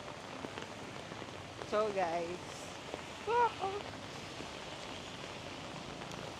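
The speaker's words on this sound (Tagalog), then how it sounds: "Lakas ang ulan." Heavy night rain in Siem Reap, a steady broadband hiss of rain falling on surfaces throughout, with a voice speaking briefly over it.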